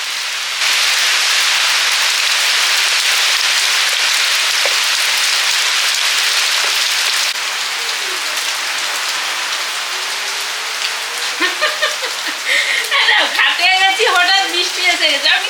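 Heavy rain pours in a dense, steady hiss for several seconds, then eases to a lighter patter as a voice starts talking over it toward the end.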